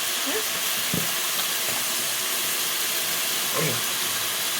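Tomato and chili powder sizzling in a pan while cooking cabbage curry, a steady dense frying hiss with a few soft stirring knocks.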